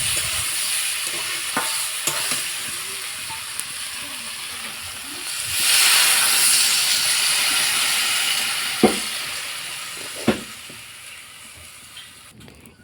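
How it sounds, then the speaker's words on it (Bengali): Goat meat frying in a pan as water is poured in, a loud steady sizzle and hiss of steam swelling midway, with a couple of sharp clinks of a utensil and soft stirring. "এখন আমি সিদ্ধর জন্য জল দিয়ে দেবো।"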